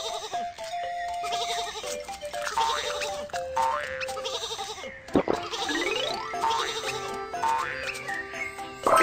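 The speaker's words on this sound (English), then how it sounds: "Some sheep are on the train track." Cartoonish sheep bleat repeatedly in a Baby Panda train video game, several high wavering calls in quick succession, loud and close, with a bright boing-like effect partway through.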